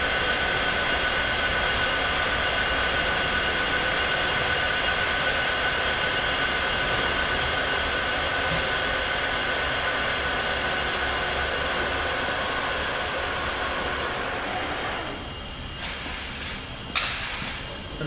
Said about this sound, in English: So we run the discharge cycle typically for 30 seconds to make sure that we take out all the solids between the plates.